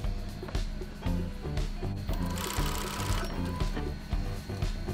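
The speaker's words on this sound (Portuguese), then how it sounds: "Pesponta essa bainha para dar um acabamento interno com duas dobras." A sewing machine topstitches the double-folded hem of a fabric face mask, its needle hammering in a steady fast rhythm with short pauses between runs, loud and close with no talking.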